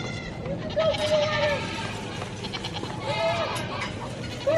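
Several goats bleat near and far, with short wavering calls repeated over a busy outdoor background, while people talk in the background.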